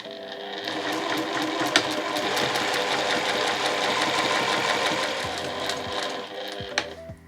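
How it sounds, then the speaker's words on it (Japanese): Domestic sewing machine running steadily as it starts a seam with backstitching on a small bicolor tote bag, a continuous close mechanical whir with rapid needle rhythm and a brief pause near the end. "ここから返し縫いをしてスタートしていきます。"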